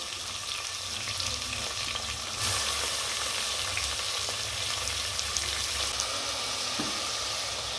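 Onion and tomato fry for sambar in a pan, giving a loud, continuous sizzle with stirring scrapes, and a burst of stronger hiss partway through.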